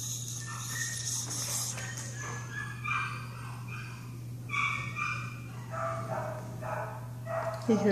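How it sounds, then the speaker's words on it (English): Dogs bark a few times at a distance over steady background hum while a skinny Labrador Retriever is photographed at a shelter. "He hears the other dogs."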